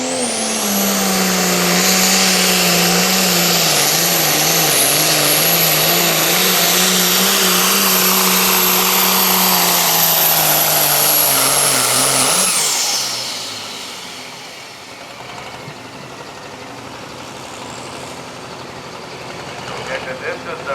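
Loud, steady engine roar from an International tractor straining on the pull track at a truck and tractor pull, holding high for about twelve seconds before the note drops and fades to a lower idle-like rumble.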